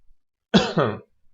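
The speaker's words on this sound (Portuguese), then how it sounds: "Vou dar uma tosse aqui." A single close, rough cough, with a short double burst of throat noise, in an otherwise quiet space.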